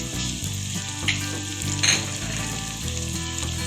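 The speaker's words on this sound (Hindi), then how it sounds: "इसको अच्छे से मसाले को सब भून लेंगे" Ground spices, black pepper, salt and crushed chilies sizzling in hot oil in a pan while cooking kaleji (liver), a steady loud frying hiss with faint stirring scrapes and no talk.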